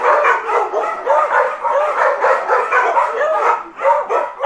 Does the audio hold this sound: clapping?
no